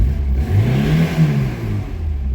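A Tofaş Doğan car engine, with a suspected noise from the carburetor area, revs up and settles back. It gives a loud, close mid-pitched drone whose tone rises and then falls over a couple of seconds.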